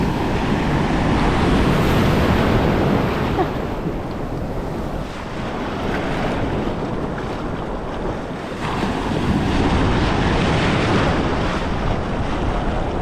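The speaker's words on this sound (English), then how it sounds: "The waves are a little bigger over here." Ocean waves breaking on a beach, a continuous loud wash of surf with heavy wind buffeting the microphone, swelling and easing in broad surges.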